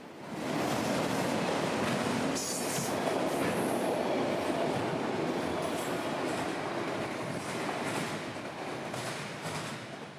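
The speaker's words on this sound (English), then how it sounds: "this mix of intermodal for Jacks and racks for Baldwin combo train would head south with a nice Y2 leader today" A long intermodal and autorack combo freight train rolls past at Folkston, Georgia, a steady broadband rumble with faint wheel clatter, continuous and fairly close, with no voices.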